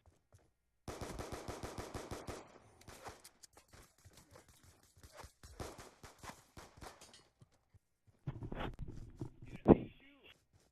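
Pistol gunfire in the video game Call of Duty Black Ops 2 pops in quick successive shots, a rapid burst followed by scattered single shots and a few louder impacts near the end, with voices under it.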